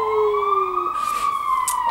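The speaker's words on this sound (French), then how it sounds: "merci pour l'ambulance." An ambulance siren on a London street wails steadily, a loud sustained tone sweeping slowly in pitch as it passes, with faint traffic noise behind.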